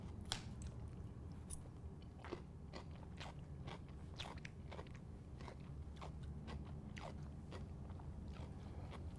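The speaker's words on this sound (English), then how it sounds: "You get that crunch of the cucumber" Crunchy cucumber slices bitten and chewed close up, with a series of sharp crisp snaps over soft, steady mastication and no talking.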